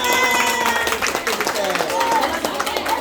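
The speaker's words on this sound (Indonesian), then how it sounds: "Oke, tepuk tangan." Students clap hands in a Catholic junior high school gathering, a dense patter of claps mixed with voices, music-like tones and chatter, steady and fairly loud throughout.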